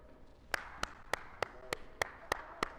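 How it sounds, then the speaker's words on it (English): Children clap after a ball race game, coming through as about nine slow, evenly spaced claps, faint and somewhat distant. "It's okay to clap for all y'all."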